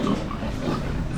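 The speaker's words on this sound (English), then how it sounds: "all the pigs in here are looking okay" Pigs in a crowded barn grunt in a dense, continuous rumble of low snorts and oinks, loud and close, with no speech.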